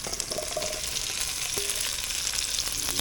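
Potatoes going into a pot of green crab corn chowder, a steady close sizzle and bubbling hiss with faint stirring clinks, continuous and fairly loud, with no talking.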